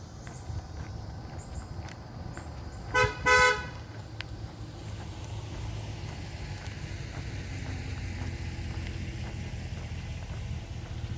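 Two short car horn toots sound about three seconds in, moderately distant, over a constant low road and traffic hum that runs throughout.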